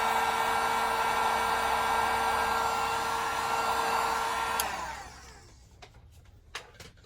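Heat gun blowing hot air onto a glow-in-the-dark Beasts of the Mesozoic Zunisaurus figure, a steady close whooshing whine that cuts off partway through, followed by a few faint clicks and handling sounds.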